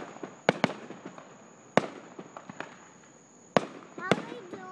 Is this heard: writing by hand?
no